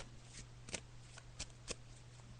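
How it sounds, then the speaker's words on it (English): Tarot cards being shuffled by hand during a psychic reading, a series of soft riffling bursts at irregular intervals over a steady low hum. "So I'm just shuffling the cards now"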